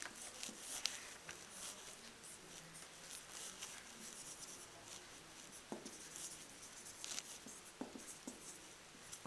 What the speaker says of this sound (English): Now let me write it down